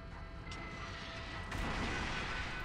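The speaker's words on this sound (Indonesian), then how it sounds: "Nah, meledak guys. Hancur ya artileri musuh ya." A deep rumbling video-game explosion destroying enemy artillery, with crackling debris, muffled and low in level, followed by continued rumble; no speech.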